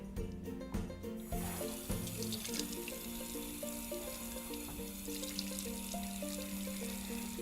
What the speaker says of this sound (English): Now we're going to rinse the cleanser off.